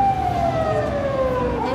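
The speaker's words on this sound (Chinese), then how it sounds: "这是救护车。" An ambulance siren passing on a busy city street in Kuala Lumpur, a loud steady wail that slowly drops in pitch as it goes by, over traffic and crowd noise.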